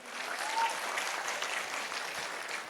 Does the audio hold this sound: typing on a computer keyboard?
no